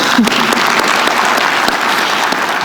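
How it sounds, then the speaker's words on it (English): A large audience in the UN General Assembly Hall applauds, loud, dense clapping filling the room evenly for the whole stretch, close and sustained. "Give yourself a round of applause"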